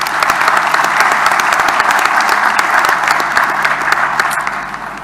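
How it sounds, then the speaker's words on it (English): Sustained applause from a large audience honouring a former Electoral Commission chairperson at the official release of South Africa's 2021 municipal election results, dense clapping that fades slightly at the end. "I think we should take a minute and give an applause."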